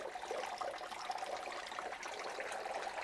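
Water runs steadily into a catfish hatchery pond, giving a continuous close rushing and trickling wash with no voices.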